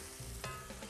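Pork being stirred in a hot frying pan with spices and a little oil, a steady close sizzle with a couple of scraping stir strokes breaking through.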